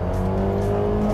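Lada Niva Bronto engine droning steadily under acceleration from a standstill, a loud, sustained low hum heard from inside the vehicle without breaks.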